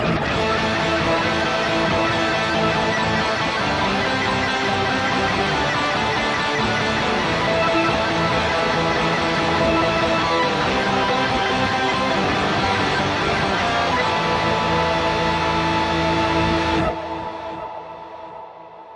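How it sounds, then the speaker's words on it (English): A dirty, heavily distorted rock organ chord made with guitar pedals sustains loud and thick throughout, then cuts off near the end, leaving a brief fading tail. "Now that is a properly dirty rock organ."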